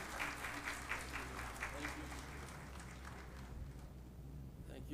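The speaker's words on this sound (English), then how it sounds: "Please join me in welcoming Justice Syed Mansoor Ali Shah with a round of applause" Faint, distant applause from an audience at a judicial academy event welcoming a justice as keynote speaker, a soft continuous patter of clapping throughout.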